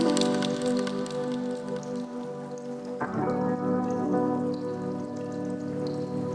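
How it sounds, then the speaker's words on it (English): Lofi beat with piano and guitar, mellow sustained tones over a soft crackling, rain-like texture, with the harmony shifting partway through; steady, moderately loud and without voices. "In context with a piano, it sounds like this."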